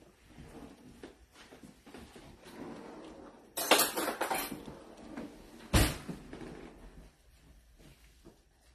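Metal fork and spoon clink against dishes while a chicken saltimbocca dish is handled in a home kitchen; soft scattered taps lead into two louder clattering bursts near the middle, then quieter handling.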